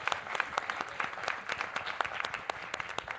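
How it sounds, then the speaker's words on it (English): Conference audience members applaud the panelists with a dense, steady round of clapping that keeps going evenly throughout, close and lively with no voices over it. "let us give our panelists a round of applause and thank them for their time."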